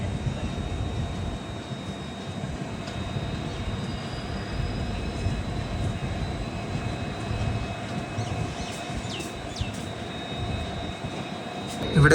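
An express train hauled by twin WDP 4D diesel locomotives rumbles along in a continuous low drone, with faint squeals late in the passage and a sharp bump at the very end.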